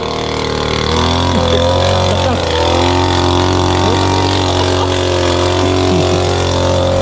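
A loud motorcycle engine rumbles close by, idling and revving with shifting pitch throughout.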